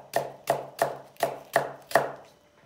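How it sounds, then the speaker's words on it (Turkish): Leeks are chopped with a knife on a cutting board, six crisp even knocks about half a second apart, close and clear with no talking. "Arkadaşlar pırasalarımızı böreklik gibi doğrayacağız."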